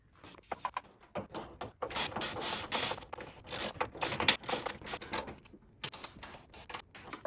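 Transmission mount bracket bolts being tightened on a Porsche Cayman S 987, heard as close, irregular bursts of ratcheting clicks and metallic rattling with short pauses between them and no voices.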